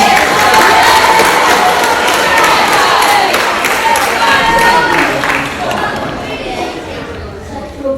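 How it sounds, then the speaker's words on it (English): Indoor audience breaks into sustained applause and cheering for a young volunteer who has just stood up at a talk on teaching 13-year-olds about abuse; dense clapping fills the room, then gradually thins toward the end. "Round of applause for this young man."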